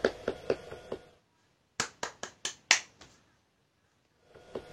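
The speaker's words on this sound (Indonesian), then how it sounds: "Tepuk tangan buat kita semua." A few crisp hand claps or snaps come in a short burst during an online primary school class, sharp separate hits with silent gaps between them, then a faint return of sound near the end.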